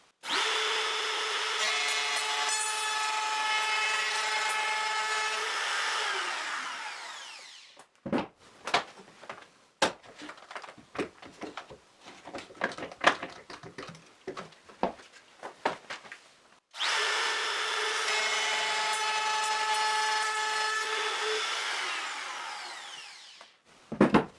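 A homemade benchtop jointer driven by a palm router cuts a plywood board, its loud steady whine running several seconds, then scraping and knocking handling noises, then the router's steady whine again.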